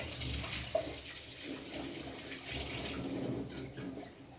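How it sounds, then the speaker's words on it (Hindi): Water runs steadily from a tap while raw meat is washed in a sink, a soft continuous splashing wash with small clinks and shifts in flow. "मीट को बहुत अच्छी तरह धोता हूँ मैं"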